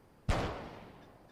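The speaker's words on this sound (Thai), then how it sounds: "ขนาดเสียงปืนยังไม่แคร์กันเลย" A single sharp gunshot in GTA Vice City cracks out suddenly and fades in a short ringing tail against quiet game background.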